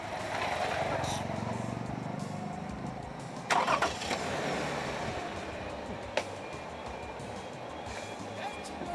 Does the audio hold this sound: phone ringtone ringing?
no